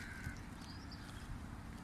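Many birds calling from inside a tree in the early morning, their faint chirps and caws scattered over a steady low outdoor rumble.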